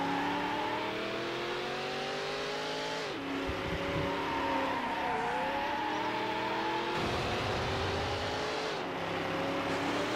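Black Dodge Viper engine revving hard in a high-speed police pursuit in the PS2 racing game Need for Speed: Hot Pursuit 2, rising and falling continuously with gear shifts over steady road roar, close and loud throughout.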